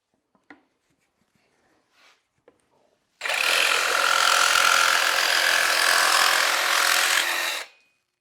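A Kobalt 24v jigsaw cuts a curve in 3/8 plywood in orbital mode, a few faint clicks and handling taps first, then a loud, steady buzzing saw run of about four and a half seconds that stops cleanly.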